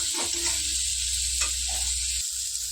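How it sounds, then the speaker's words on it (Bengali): Semolina sizzling steadily in hot ghee as it is fried a little at a time, a constant close hiss with faint stirring scrapes underneath. "অল্প অল্প করে ভাজছি, আর একটু একটু করে অল্প অল্প করে ঘি ছড়িয়ে দিচ্ছি"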